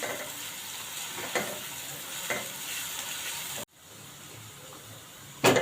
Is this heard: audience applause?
no